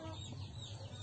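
A chicken with bumblefoot, a foot infection, clucks softly and briefly over a low background hum, faint and fairly close.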